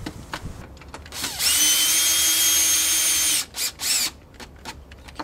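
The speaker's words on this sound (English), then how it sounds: "We got to tighten up the screws in the back and the one in the front." Power drill driving screws into the back of a 2016 Golf R MK7 headlight, one steady whirring run of about two seconds followed by a few short bursts and ratchety clicks, close up and alone.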